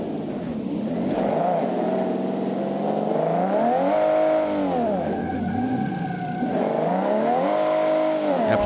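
A Toyota Supra mod car drives in the BeamNG.Drive game, its engine droning and revving with rising and falling pitch through gear changes, loud and continuous without talk.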